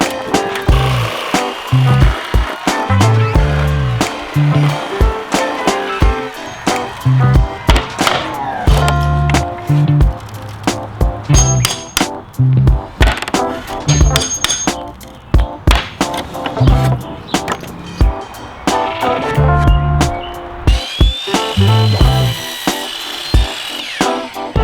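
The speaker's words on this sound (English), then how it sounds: "grab some 2x4, cut it to the length of each compartment, stick it up there, nail it in the sides" Power sawing and hammering on 2x4 boards while building pallet-board shelves, with repeated loud sharp strikes and clattering wood, and bursts of a cutting tool running, all close.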